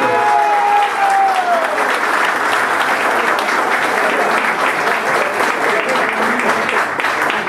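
A voice trails off at the start, then loud, sustained audience applause fills the rest, a thick, even wash of clapping hands.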